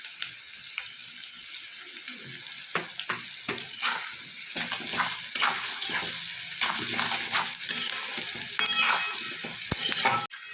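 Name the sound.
onions frying in a pan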